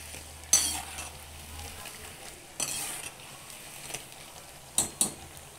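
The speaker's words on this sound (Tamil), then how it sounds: "இப்படி எண்ணெய் சலசலப்பு கொஞ்சம் நின்றோடனே சிம்மில் வச்சு வேக விடணும்." Bonda fritters made with kelvaragu and murungai keerai frying in bubbling oil, a soft steady sizzle with a few louder bursts of splashing and stirring, close and without talk.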